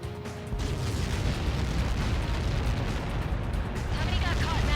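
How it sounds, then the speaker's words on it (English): A huge explosion in the combat flight game Ace Combat 7 swells into a loud, sustained, rumbling roar that fills the whole stretch, with game speech mixed underneath. "How many got caught in that explosion?"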